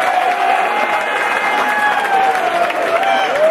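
Audience at a fight event applauds the combatants, with a dense, steady wash of clapping and crowd noise that stays loud for a few seconds.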